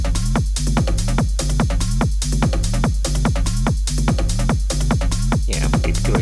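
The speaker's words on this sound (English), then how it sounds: "Let's hear it with the rest of our percussive element and kick and bass." Driving dubby hardgroove techno loop with a steady four-on-the-floor kick, a rolling bassline and busy percussive hits layered on top, loud and continuous with no voices.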